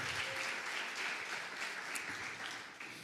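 Church congregation applauding together during a worship service, a steady dense wash of clapping that holds at even strength for a few seconds.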